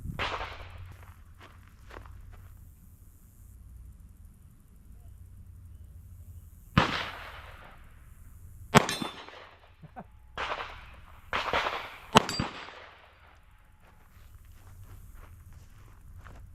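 Canik TP9SC Elite pistol with a Holosun red dot fired at green steel targets about 28 yards away: several sharp, loud shots spaced irregularly, with quieter movement and handling noise between them.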